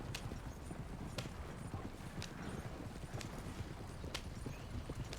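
A horse's hooves clip-clop at an even walking pace in Red Dead Redemption 2, each hoof strike sharp and clear over a low rumble of game ambience, with faint voices in the background.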